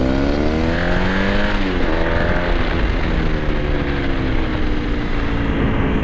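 BMW R nineT 1200 flat twin motorcycle engine, a NineTrail enduro build, running loud and close with a steady rumbling drone and a brief rise and fall in revs, no speech.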